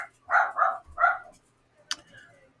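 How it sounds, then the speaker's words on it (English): Dogs bark a few times in a quick, faint cluster, followed by a brief sharp sound and near silence, with no talking. "Hold on, dogs are going to get let out in a second."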